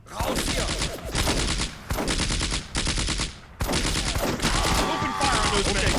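Dense bursts of rifle and machine-gun fire in the WWII strategy game Combat Mission: Afrika Korps, loud, sustained and rapid, broken by a couple of short pauses.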